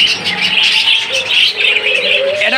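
Two pairs of caged Australian diamond doves at a bird seller's give soft coos and repeated thin chirps, fairly close and fairly loud, with no talking.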